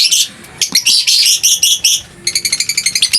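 A pair of opaline lovebirds, a green opaline and a lutino hen, give loud, close, rapid chirping calls in several bursts, ending in a fast run of repeated chirps.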